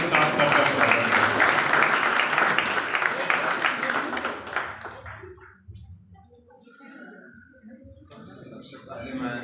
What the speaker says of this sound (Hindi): आप लोग जोरदार तालियों के साथ सबका स्वागत करें